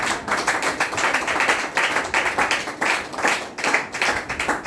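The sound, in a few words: clapping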